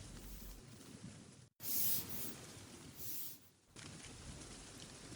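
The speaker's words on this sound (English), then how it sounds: "I'll just spritz some lavender on your hair." Lavender oil spray is spritzed onto hair in two close hissing bursts, each lasting about a second, over a soft steady background hiss.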